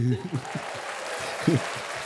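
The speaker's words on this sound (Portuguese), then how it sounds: "É, palmas" Applause rises on a podcast set, a soft, diffuse patter of clapping beneath people talking briefly at the start and again midway.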